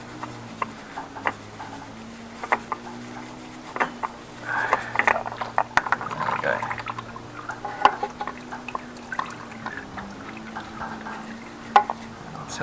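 Engine oil drains from a Honda CBR500R motorcycle, a faint, steady trickle with scattered drips and small metallic taps nearby, with a low hum underneath.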